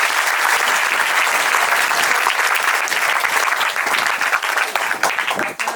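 Audience applause at a tree-planting function attended by a state cabinet minister: dense, steady clapping from a large crowd that carries through the whole stretch and only begins to thin near the end.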